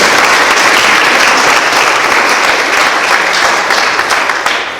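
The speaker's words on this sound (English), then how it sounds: "Give Debbie a round of applause." A crowd at a chamber of commerce event claps steadily and loudly for several seconds, a dense wash of applause that fades slightly at the end.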